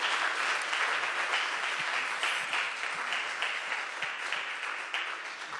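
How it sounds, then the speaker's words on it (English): A church congregation applauds the choir and worship team, a dense, steady wash of many hands clapping that holds evenly throughout without speech. "Can we clap for them?"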